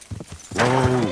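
A horse in the Kingdom Come: Deliverance 2 video game lets out a loud, close whinny that rises and holds steady for about half a second, after a few soft thuds of movement.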